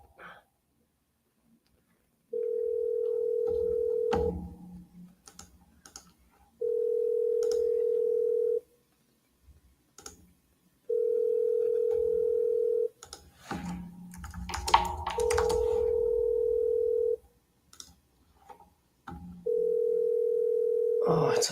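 A landline telephone ringback tone repeats as five steady, evenly spaced two-second beeps with pauses between them, fairly loud, with some brief typing, clicks and low talk in the gaps.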